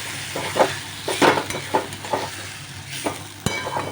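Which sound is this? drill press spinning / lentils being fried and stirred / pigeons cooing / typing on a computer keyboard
lentils being fried and stirred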